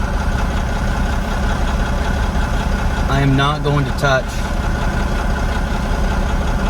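A Lexus ES300 engine idles roughly, close to stalling, with a steady, uneven low rumble throughout, while someone speaks briefly over it midway.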